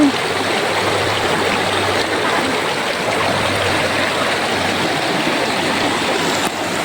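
River water rushes over rocks at Daraitan in Tanay, Rizal, a loud, continuous broadband wash heard close by and steady throughout, without any speech.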